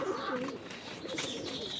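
A pigeon coos softly in low, rolling phrases against faint background noise, with no talking.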